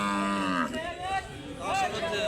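Cattle at a livestock market moo loudly and nearby, with long drawn-out calls overlapping one another against a busy background.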